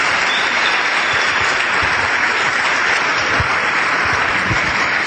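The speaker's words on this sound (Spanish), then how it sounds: "Dale un aplauso porque eso es impresionante." Loud, dense applause from a large audience at a business seminar, a thick, unbroken wash of clapping that stays at full strength throughout.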